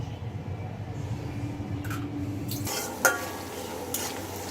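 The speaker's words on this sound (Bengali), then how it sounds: "পেঁয়াজটা একটু হালকা একটু ভাজা হয়ে আসছে" Cubed onions frying in hot oil in a kadai sizzle steadily, with a spatula scraping and a metallic clink from the pan partway through.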